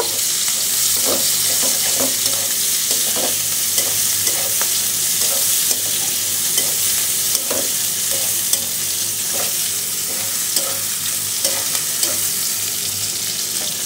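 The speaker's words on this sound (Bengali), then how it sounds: "রসুন পেঁয়াজটাকে একটু লালচে বাদামি করে ভেজে নেব।" Loud, continuous sizzling of onions and garlic frying in a pan, with regular scraping strokes of a spatula stirring throughout.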